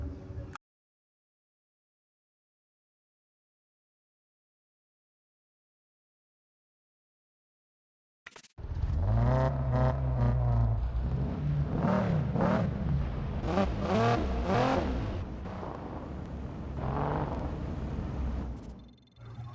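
In the mobile racing game Need for Speed No Limits, a car engine revs and whirs loudly during a rush hour race, with its pitch rising and falling, after a long silence at the start.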